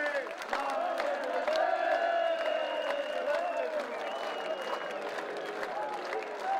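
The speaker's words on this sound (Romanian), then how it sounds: "ridicăm mâinile sus și aplaudăm cu toții" Crowd at an outdoor political rally in Iași, Romania, applauds and cheers in a dense, sustained roar of clapping and shouting, with a voice or chant rising above the noise.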